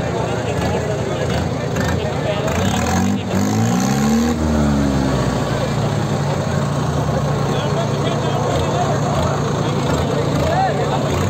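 Mahindra 575 and Farmtrac 60 tractors rev during a tug-of-war contest, a continuous loud engine drone with a rising and falling pitch sweep early on, heard amid crowd noise.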